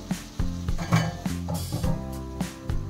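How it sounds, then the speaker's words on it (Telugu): Ridge gourd pieces cooking in oil in a metal pan for masala curry: sharp, ringing utensil clinks and scrapes at an irregular rhythm over a faint, low sizzle, close up. "బీరకాయ ముక్కలు ఇట్లా ఆయిల్లో మగ్గుతున్నాయి"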